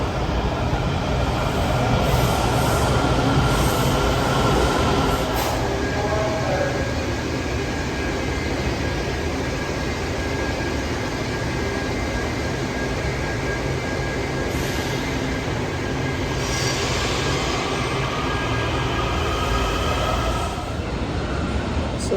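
Subway train in a Washington, D.C. station, a loud continuous rumble and roar of rolling cars with a high whine above it, steady for over twenty seconds with brief rattling bursts.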